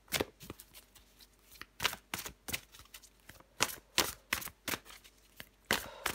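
Playing cards are shuffled and drawn for a tarot-style reading, giving quick papery riffles and soft slaps in irregular close bursts against a quiet room.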